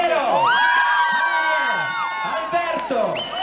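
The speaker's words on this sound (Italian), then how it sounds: "vorrei un fragoroso applauso per Gian Piero," An outdoor crowd at a year-end concert in Piazza San Carlo, Turin, cheers the brass section with whoops, high shouts and loud yells rising over one another in a lively burst.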